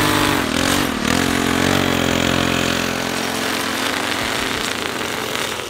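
A gas-powered lawn edger cuts along a sidewalk edge, giving a loud, close, steady engine whine and buzz throughout with slight changes in pitch, and no voices.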